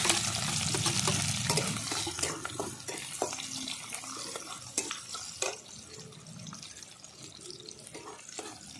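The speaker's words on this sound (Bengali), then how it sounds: "পেঁয়াজটা ভালো করে ভেজে নিয়েছি" Chopped onion with garlic and black cumin fries in white oil, a loud sizzle at first that eases into a softer hiss, broken by repeated clicks and scrapes of a spatula stirring in the pan, with no talking.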